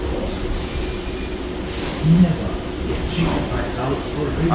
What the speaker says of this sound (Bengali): ট্রেন আমাদের ছেড়ে দিল শিয়ালদা স্টেশনের দশ নম্বর প্ল্যাটফর্ম একদম রাইট টাইমে ট্রেন আমাদের ছেড়েছে